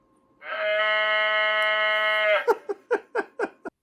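Animated O-gauge model train cow car: a steady synthetic bleating tone holds for about two seconds, then five short clipped bleats follow in quick succession, loud and close.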